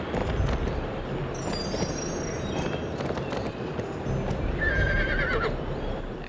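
A horse whinnies and gallops in a horse adventure video game, steady hoofbeats running under a long neigh, with game music and effects layered over them.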